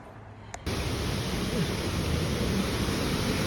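Floodwater rushes over Bardwell Ferry Road and its bridge in Shelburne Falls, Massachusetts, a loud, steady broadband roar that surges in after a brief quieter moment and keeps going without letup.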